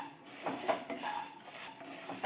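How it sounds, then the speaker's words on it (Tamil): Coriander seeds, about a cup, dry-roasting over medium heat in a pan, give soft scraping and rattling stirs with clinks of a utensil on metal, irregular and close, with no talking. "இப்போ மிதமான சூட்டில் இதை நல்லா நம்ம வறுத்துக்கணும்"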